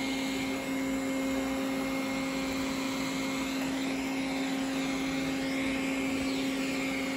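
Steady whirring motor hum of a Roborock S5 robot vacuum, continuous and close, with a faint high-pitched whine and no talking.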